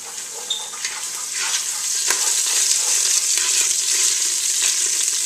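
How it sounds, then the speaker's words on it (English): Garlic sautés in a pan, a bright steady sizzle with occasional stirring scrapes, growing slightly louder over a few seconds. "saute your garlic a little bit"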